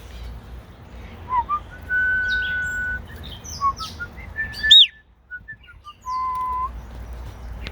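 A pet bird in an outdoor aviary gives a series of clear whistled chirps and tweets close by, spaced irregularly with short pauses, including one sharp louder call midway.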